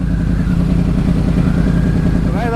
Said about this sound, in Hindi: आई नो पहले आवाज़ें सुन रहे हो आप, क्या हालत हो रही है यहाँ पे, पीछे बाइक्स का ही मेला है